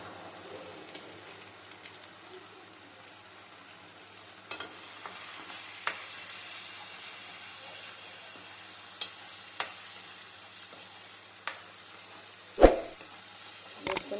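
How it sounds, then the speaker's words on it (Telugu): Pasta masala powder frying in a pan, giving a soft low sizzle broken by several sharp spatula scrapes and knocks, one louder near the end. "చాలా బాగా వేయించుకోవాలి"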